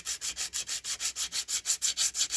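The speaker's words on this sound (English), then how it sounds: "I'm going to sand it on the glass so I don't get dust everywhere" An emery board or sanding block rubbed over paper card laid on glass, making a steady run of about a dozen rhythmic, hissing back-and-forth strokes, close and fairly quiet, with no voices.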